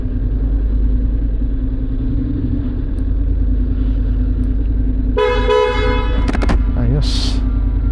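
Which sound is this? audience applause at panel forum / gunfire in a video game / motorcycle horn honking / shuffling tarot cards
motorcycle horn honking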